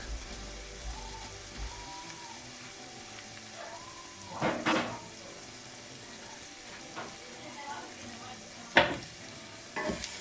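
Garlic butter being stirred in a pan, with soft scraping and sizzling under a low steady hiss, and two or three louder clattering strokes of the spoon against the pan.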